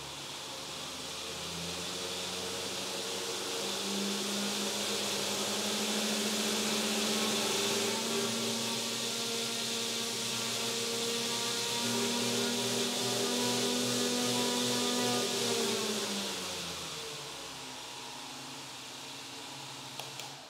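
A car blower motor run on a 24-volt, 20-amp power supply spins a propeller, a loud whirring whine that rises in pitch, holds steady for over ten seconds, then winds down as the motor slows.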